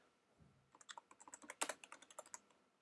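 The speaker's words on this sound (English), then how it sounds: "You can basically type in anything." A short burst of quick keystrokes on a computer keyboard entering a command to an Arduino Bluetooth serial link, close and crisp, speeding up in the middle before trailing off, with no voices.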